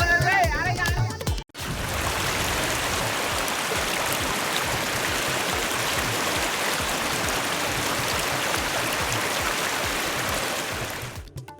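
Rushing floodwater from heavy rain pours in a loud, continuous roar after a brief burst of other sound at the start, a dense, steady torrent that never lets up.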